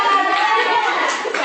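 A classroom of students claps hands in a short, loud burst, with children's voices mingled into the clapping.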